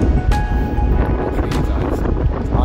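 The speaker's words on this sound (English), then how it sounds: "That wind is like ice" Cold, icy wind gusting across a rugged Outer Hebrides island, buffeting the microphone with loud, steady broadband rumble and bursts.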